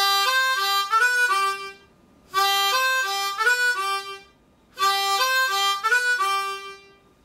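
A harmonica plays a blues riff starting on the blown third hole, three short repeated phrases of bright, reedy notes separated by brief pauses, clear and close with no talking.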